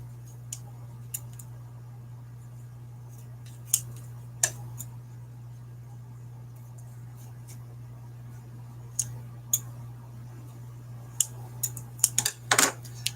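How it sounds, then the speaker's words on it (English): Scissors trimming away excess vinyl while making lanyard ID holders, a few crisp snips spread out over a quiet, humming room, with a quick cluster of cuts near the end. "I got all my excess vinyl trimmed away and thrown out"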